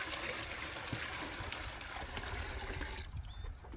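Water pours steadily into a chicken waterer in a coop for Cornish Cross meat birds, a continuous close splashing rush that tapers off near the end.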